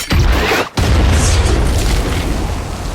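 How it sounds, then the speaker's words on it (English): A loud, deep explosion as a soldier steps on a mine in a war film, a heavy booming blast, a brief cut-off, then a long rumbling roar that slowly fades. "one soldier steps on a mine, triggering an explosion that leaves some wounded"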